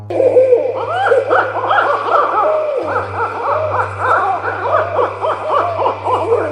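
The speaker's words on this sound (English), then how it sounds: "It was the laughing owl, and the recording you just heard captures exactly what startled the early European settlers." A rapid series of loud calls from the extinct laughing owl, hooting and cackling in a repeated laughing pattern, with a low steady hum underneath.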